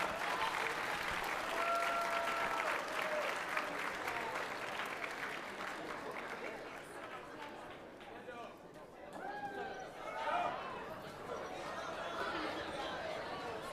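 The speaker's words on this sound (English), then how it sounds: "Give them a huge round of applause." Sustained crowd applause from an audience honoring a high school orchestra and choir at a Black History program, loud and dense at first, then thinning with scattered claps and murmured voices toward the end.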